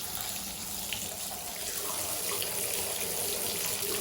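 Tap water runs over bare feet, a continuous broadband splashing hiss that stays steady and close throughout.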